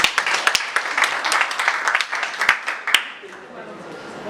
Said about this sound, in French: Des applaudissements encore pour les dames.